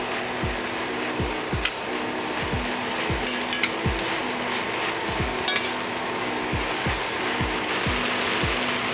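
Chopped vegetables and garlic sizzle in a hot pan while a utensil stirs them, scraping the pan in regular strokes about every half second over a steady close frying hiss, with no voices.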